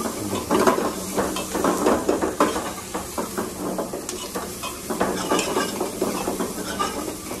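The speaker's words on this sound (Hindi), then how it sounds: "तो इसको पहले भूनना है टमाटर प्याज को" Tomato and onion fry in a pan for a mutton curry, a busy close sizzle with repeated scraping and clinking of a stirring utensil against the pan throughout.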